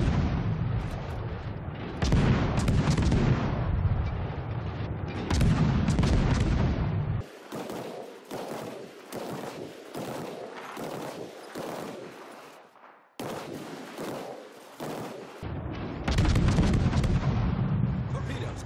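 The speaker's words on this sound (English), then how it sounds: "I get into Brujo's smoke and shoot over the island and those low health ships." Naval guns fire in the warship game World of Warships, heavy booming salvos and bursts of rapid gunfire that come in loud clusters with brief gaps between them.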